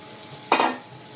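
Fried potatoes are stirred and sautéed with spices in a pan, giving a single short, loud burst of scraping sizzle against a quiet kitchen background.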